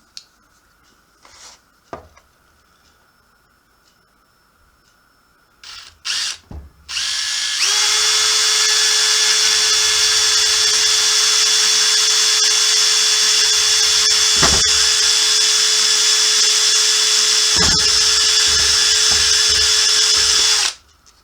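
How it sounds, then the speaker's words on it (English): A power drill bores a hole through a Mentos tube for a builder project, starting after a few light handling knocks and then running as a loud, steady high whine for about thirteen seconds before stopping. "once I drill the hole. So that's what's going to happen right now."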